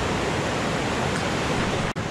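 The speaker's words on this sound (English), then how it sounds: "And now the snow just melt. There's so much water coming down from this creek." Snowmelt water rushes down a creek at Buttermilk Falls, a steady, loud, broadband roar close by that continues without pause and has no voices over it.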